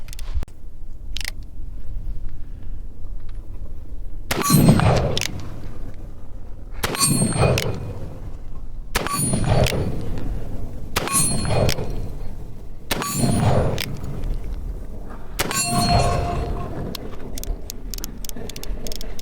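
An Uberti Remington New Model Army revolver fires at an outdoor range. About six sharp reports come at steady intervals of two seconds or so, each leaving a ringing metallic tail over steady background noise.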